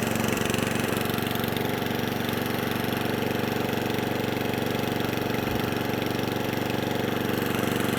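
An Atco Balmoral cylinder lawnmower runs with its cutting cylinder turning, giving a loud, close, steady mechanical drone that holds without a break and has no talk over it.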